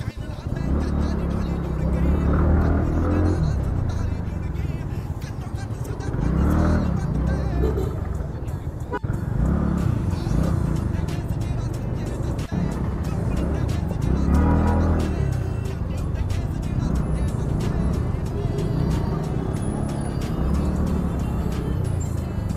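A TVS Ntorq scooter rides through city traffic, its engine drone and surrounding vehicle noise steady and loud throughout, with passing cars blending in and speech heard over the ride.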